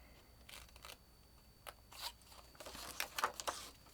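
Scissors snip through paper calendar shapes for a 3D geometric calendar, with quiet, irregular clusters of cutting and rustling that grow busier toward the end, close and alone.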